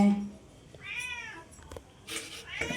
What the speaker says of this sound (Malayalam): പൂച്ചെങ്കിലും അങ്ങനെ കരയണേ